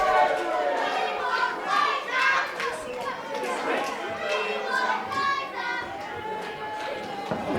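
A wrestling crowd chatters and cheers in a steady murmur of many voices with scattered shouts rising and falling, with a commentator talking over it.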